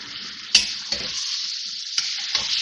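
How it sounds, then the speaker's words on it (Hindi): Bottle gourd (lauki) frying in onion-tomato masala, a steady hissing sizzle broken by a few sharp spoon-against-pan scrapes, heard nearby without speech. "लौकी डाल के भी भूनेंगे इसको ताकि लौकी में अच्छा सा मसाले का, प्याज का, टमाटर का फ्लेवर आ जाए।"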